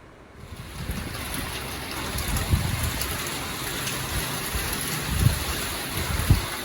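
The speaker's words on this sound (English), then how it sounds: "It's been raining pretty steady all night long with strong winds." Steady, heavy tropical-storm rain pours onto the open garage entrance, a dense continuous hiss with occasional louder splashes and gusts, close and unbroken throughout.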